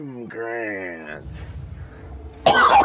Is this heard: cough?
yes